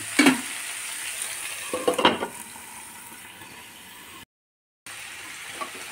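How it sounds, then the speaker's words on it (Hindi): Pumpkin fries in a pan with carom seeds, asafoetida and dried red chillies, giving a soft steady sizzle with a couple of stirring scrapes, then a brief gap of silence. "अजवाइन, हींग, सूखी हुई लाल मिर्च में इसको फ्राई करूँगी काशी फल को"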